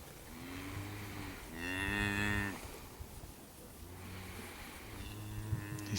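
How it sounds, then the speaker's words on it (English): Home-raised heifers moo repeatedly at a livestock auction, several low drawn-out calls overlapping at moderate distance with no talk. "a very, very nice set of home-raised heifers"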